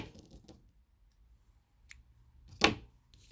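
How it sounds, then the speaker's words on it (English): Scissors snip through crochet yarn close by: a few faint soft clicks, then one crisp, louder cut in an otherwise quiet setting. "cut your yarn."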